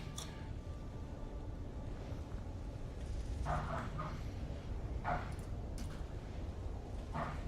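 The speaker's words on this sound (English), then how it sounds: "my dogs are going ballistic right now. I don't know if you guys can hear them in the background" Dogs bark and yip in short bursts in the background, muffled and somewhat distant over a steady low hum, several barks spread through the stretch.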